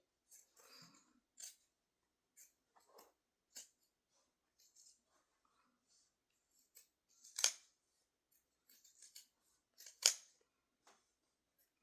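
Scissors trim fabric for a toddler crossbody purse: sparse, crisp snips scattered over several seconds, a few louder close cuts standing out against near silence, with no talking.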